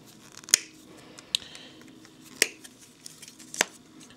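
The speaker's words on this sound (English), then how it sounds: "first, you simply clip out the marine out of the sprue." Hobby clippers snip an Ultramarine miniature free from its plastic sprue, giving four sharp, crisp clicks spaced unevenly over a few seconds against a quiet background.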